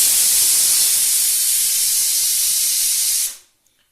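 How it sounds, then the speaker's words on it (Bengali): A pressure cooker boiling lentils lets out a loud, steady steam hiss close by for about three seconds, then cuts off abruptly into near silence. "ওদিকে ডালের সিটি পড়ছে"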